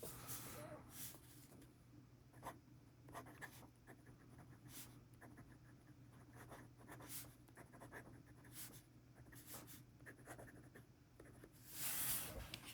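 Fountain pens scratch across paper in quick irregular strokes, close and quiet, over a steady low hum.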